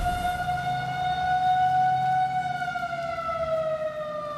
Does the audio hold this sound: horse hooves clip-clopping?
no